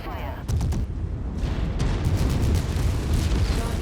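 Explosion in the mech combat game MechWarrior 5, a loud, sustained rumbling blast with crackling debris that rolls on for several seconds amid battle noise.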